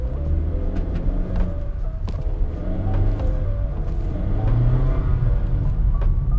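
A Honda BR-V with a CVT accelerates in city traffic, its engine giving a steady low rumble that rises gently, with faint road noise, small clicks and no talk.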